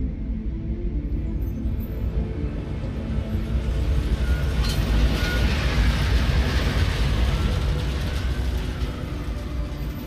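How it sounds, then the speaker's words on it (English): Train riding along in Deus Ex: Mankind Divided, a loud, steady rumble with rattling and mechanical clatter that holds throughout. "Just getting off the train now."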